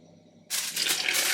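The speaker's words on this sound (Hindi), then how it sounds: "और इसमें डालेंगे पानी।" Water is poured into a pot of chana dal already seasoned with red chilli, salt, cumin, turmeric and coriander; a sudden loud, steady gushing pour begins partway through after a quiet start and continues to the end.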